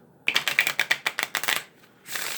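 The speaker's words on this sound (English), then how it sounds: "You can then just easily shuffle them like this" Rapid crisp riffle of playing cards being shuffled up close, a quick run of sharp flicks lasting over a second, then a soft rustle.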